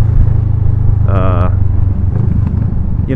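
Motorcycle engine drones steadily and loud while riding in traffic, with a brief higher whine midway and other vehicles around; no one speaks over it.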